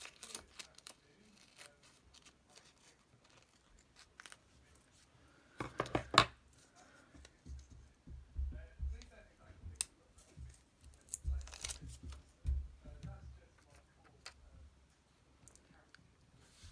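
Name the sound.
cutting out paper pieces, likely with scissors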